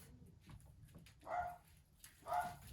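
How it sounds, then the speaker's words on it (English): A dog barks twice indoors, the two muffled barks about a second apart, moderately distant against a quiet room. "My dog is barking."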